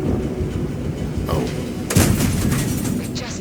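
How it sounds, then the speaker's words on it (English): Tank cannon fire in a tank battle video game: two heavy booming shots about half a second apart, the second harder and louder, set against a constant rumbling engine and battle noise. "first shot didn't penetrate, second shot killed the tank"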